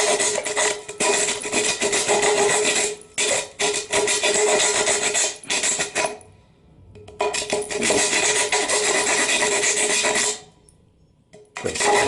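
A tin can's edge is scraped back and forth along a wooden broomstick like sandpaper, giving loud, close, rasping strokes in long bursts with brief pauses between them.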